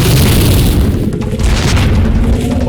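A loud, booming cartoonish blast from a cartoon fire gun, with a deep rumble that rolls on for a couple of seconds.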